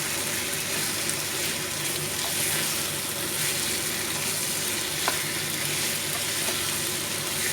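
Chicken gravy with curd sizzles in a pan as it is stirred, a steady close frying hiss with soft scraping from the mixing and a few small pops, continuous and without talk.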